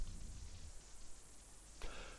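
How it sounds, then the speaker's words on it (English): Steady rain falls at night with a constant dense hiss that fills the whole stretch, and a brief brighter swell comes near the end; no one speaks. "the rain was calling Noah"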